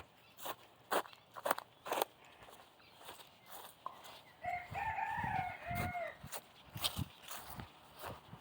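A rooster lets out a single crow in the middle, fairly faint and somewhat distant, among scattered footsteps, crunching and handling noise close by.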